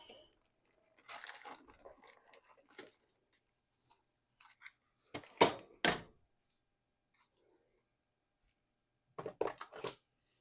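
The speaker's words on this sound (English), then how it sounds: "Dig in the drawer, get our solder wick out." Rummaging in a drawer for solder wick: scattered soft clatters and rustles, a pair of sharper knocks in the middle and another quick cluster near the end, with quiet gaps between.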